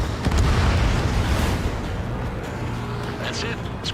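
Enemy bomber shot down in the Ace Combat 7 video game, a loud, rumbling explosion that booms and rolls on continuously, with a faint radio voice briefly heard near the end.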